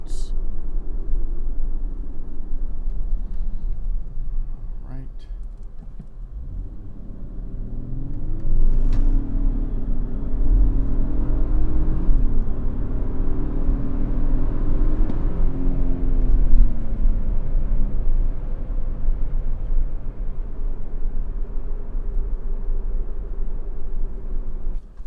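Cabin view of a 2025 Lexus LX 700h Overtrail hybrid SUV pulling away from a full stop: a low steady rumble gives way to a rising engine drone that climbs and holds as the vehicle gathers speed.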